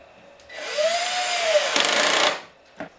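A power drill driving screws into a wooden kitchen table frame, a rising whine that holds for about two seconds and then grinds harder as the screw bites, ending abruptly, followed by a short knock.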